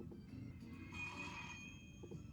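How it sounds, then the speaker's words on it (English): A telephone rings once with a bright, sustained electronic tone held for about a second over a steady low background hum, at moderate level with no talk. "Phone must be Chief Quimby"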